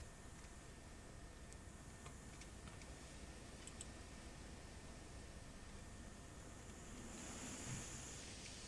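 Steady wind hisses through a closed ship interior in the horror game Layers of Fear 2, a constant, faint, noisy rush with a few soft ticks and no voices.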